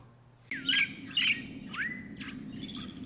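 Parent birds bringing food to a nest of more than a dozen chicks give sharp bright chirps and squawks, a few loud calls in quick succession over a low steady background hum.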